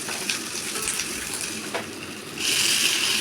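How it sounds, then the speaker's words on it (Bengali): Garlic, onion and green chili fry in a pan. A steady low crackle runs throughout and swells into a louder, brighter sizzle near the end, with no talking. "এরপরে গার্লিক, রসুন আর পেঁয়াজ দেব, কাঁচা লঙ্কা,"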